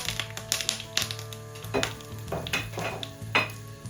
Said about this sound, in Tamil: நான் தாளிக்க போறேன். பாத்தீங்கன்னா நான் போட்ட நெய் வந்து நல்லா உருகிட்டுது.